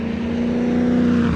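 A heavy Ford XR8 V8 car of about 1.6 tonnes holds a steady, throaty engine drone while cornering, heard from inside the car without any talking.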